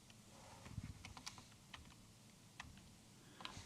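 Computer keyboard keys pressed while placing building patterns in Dwarf Fortress, a quiet run of scattered clicks and taps, some in quick pairs, with no talking.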